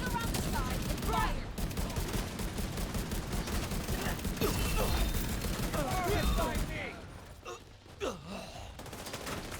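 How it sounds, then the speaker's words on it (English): Rapid bursts of video game gunfire in a firefight, dense and loud through most of the stretch, with gasps and voices mixed in before the shooting thins out near the end. "Get around the side and fire."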